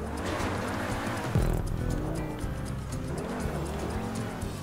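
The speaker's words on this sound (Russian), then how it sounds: "Я слышу, как ты там буксуешь." Car tires spinning and squealing in the GTA Online video game, a continuous loud engine roar with skidding wheel noise throughout.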